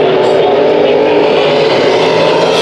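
Race cars roar around the Arizona Speedway oval during a heat race, a loud sustained engine drone with shifting pitch from several cars, heard close and constant, with commentary likely running over it.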